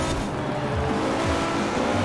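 Racing cars in a video game braking hard, tires squealing and engines droning in a steady loud wash, with descending pitch sweeps as the cars slow, no voices.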